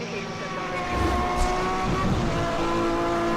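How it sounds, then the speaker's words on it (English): Supercar engines from the racing game NFS Hot Pursuit roar and whine continuously, rising and shifting in pitch as the cars race, with a brief swooshing pass, heard steadily throughout. "this game might just have the best engine sounds in any like modern racing game, like ever"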